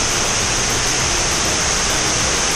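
Taktak Falls roaring as a loud, unbroken wash of falling water that stays steady throughout, close by and alone.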